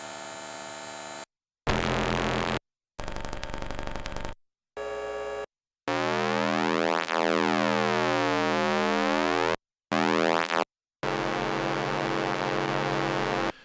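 A string of synthetic radio effects: sine tones, bursts of static, sweeping siren-like warbles and chirps, separated by short silences.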